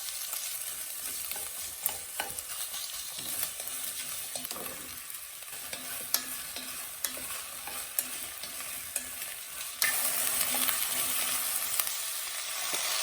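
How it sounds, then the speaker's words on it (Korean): Onions and mushrooms sautéing in coconut oil for a shrimp broccoli curry, a soft continuous sizzle punctuated by occasional sharp clicks of a utensil against the pan, growing brighter and louder toward the end. "코코넛 오일을 두르고 양파와 버섯을 볶아줍니다."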